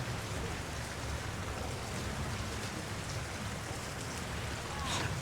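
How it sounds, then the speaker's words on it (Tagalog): Steady rain pours down, a dense hiss of drops hitting surfaces that stays even throughout, close and fairly loud. "Inabot kami ng ulan talaga."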